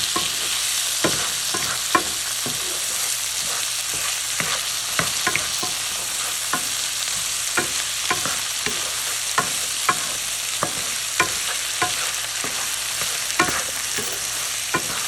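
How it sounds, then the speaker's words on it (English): Ginger and garlic sautéed in a pan for matar paneer with steady stirring: a continuous close sizzle punctuated by regular sharp taps and scrapes of a spoon against the pan, with no voices. "And add the ginger garlic. Now you want to saute this for about 1 minute."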